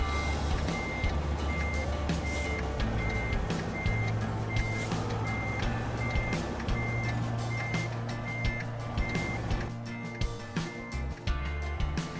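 In American Truck Simulator, a truck backing up to hook a trailer sounds a steady series of evenly spaced reversing beeps over its low idling engine rumble, with no talk.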